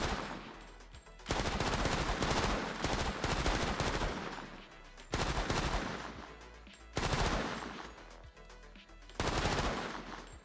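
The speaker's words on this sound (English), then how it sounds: "the turret is not the most accurate thing, but if you are in a safe spot, you can pick them off from quite far away" Turret gunfire against zombies in the online survival game Persist Online, rapid automatic bursts of several seconds each, loud and close, separated by short quieter gaps.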